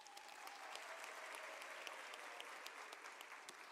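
Graduation ceremony crowd clapping in a steady, even wash of many hands, heard faint and distant throughout without any voice over it.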